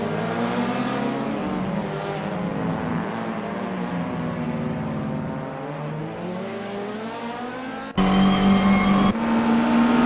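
Classic touring race cars in Assetto Corsa drone with loud, steady engine roars that shift pitch as they rev and change gear, close and sustained, with a sharper whine near the end.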